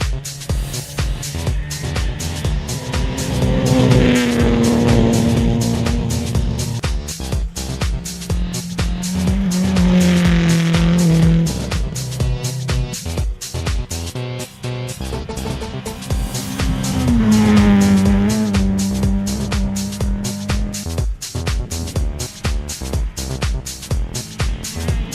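Rally car, number 12, on a gravel stage at the Toyota Gauteng Rally, driven hard with loud engine revving that rises and falls in repeated surges, tires skidding and scrabbling on the loose surface throughout, with no voices.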